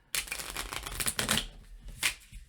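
Close, loud riffling of playing cards being shuffled, a long ruffle followed by a shorter burst, with no talking.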